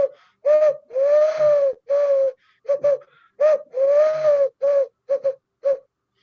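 Wood pigeon call imitated by a person blowing into cupped hands: close, breathy, hollow coos in a repeated rhythmic phrase of longer and shorter notes, clear and alone.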